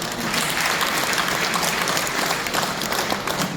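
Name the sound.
audience applause at a lecture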